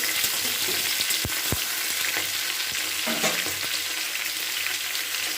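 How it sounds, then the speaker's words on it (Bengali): Vegetables for Bengali shukto sizzle loudly in a hot pan as they are stirred, with a continuous close frying hiss and a couple of sharp utensil knocks early on. "এবার আমি সমস্ত সবজিগুলোকে এর মধ্যে দিয়ে দিচ্ছি দিয়ে খুব ভালো করে এটাকে নাড়াচাড়া করে নিচ্ছি"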